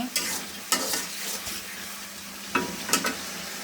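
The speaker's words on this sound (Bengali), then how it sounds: "নিরামিষ তরকারি, 5 রকমের তরকারি সবজি দিয়ে রান্না করছি।" Vegetable curry made with five kinds of vegetables is stirred and fried in a pan, with a steady close sizzle broken by several sharp scraping strokes of the spoon, and no talking.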